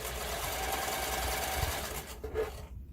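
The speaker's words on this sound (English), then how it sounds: "So now we'll sew the back end." A sewing machine stitches the back end of a homemade fabric yarn holder, running as a steady close motor whir for about two seconds before slowing and stopping, with no talking.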